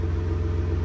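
A Jeep JK engine, just fitted with a new power steering pump, runs at a steady idle with a close, low, even rumble heard alone.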